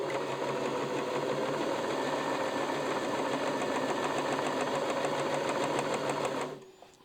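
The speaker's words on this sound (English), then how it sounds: "It just sewed the front bar tack and now it's working its way up the left side." A sewing machine runs a bar tack and continues up one side, a fast steady mechanical chatter with rapid needle rhythm that stops abruptly near the end, close and clear with no talking.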